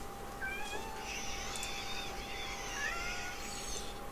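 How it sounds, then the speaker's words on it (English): A cat in the game Hilly Homestead meows a few times at moderate distance over a steady hum and background hiss, short rising calls spread across a few seconds. "Yes, I can hear you, cat."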